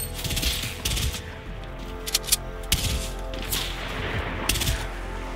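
Fortnite gunfight with a burst rifle and a shotgun, several sharp shots in quick clusters over steady game ambience, loud and close, with no talk.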